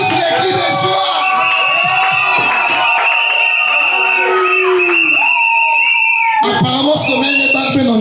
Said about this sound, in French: Pousse d'abord les cris de joie si tu es là.